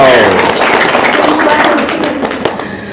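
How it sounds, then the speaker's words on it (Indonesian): A crowd at a gathering breaks into loud, dense applause, with scattered clapping and voices mixed into the sound. "Tepuk tangan dong."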